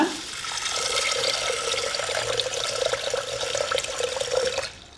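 Water runs in a steady stream, splashing and gurgling as it pours into a pressure cooker with mung beans, continuous for several seconds before stopping abruptly.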